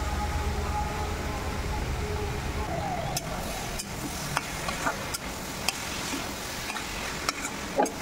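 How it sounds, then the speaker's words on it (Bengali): Soybean chunks sauté in a pan over a medium flame with a soft, continuous sizzle, punctuated by sharp spatula clicks against the pan, as a voice speaks in the background. "ফ্লেমটাকে এবার মিডিয়াম রেখে আমি সোয়াবিনগুলোকে কিছুক্ষণ কষাবো।"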